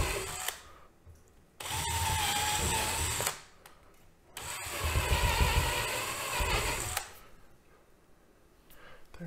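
A power drill bores a hole into a wall for anchors while installing studio lighting, running in two loud sustained bursts of several seconds each, separated by short pauses, with no one talking.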